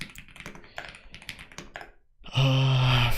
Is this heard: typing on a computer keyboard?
yes